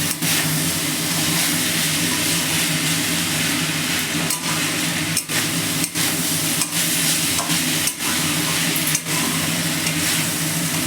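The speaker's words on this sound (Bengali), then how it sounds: "ভালো করে তোমার নেড়ে নেওয়া হচ্ছে কড়াইতে।" Potatoes stirred and fried in a wok, with a steady loud sizzle and scraping stirs, plus a few sharp knocks of the utensil against the pan.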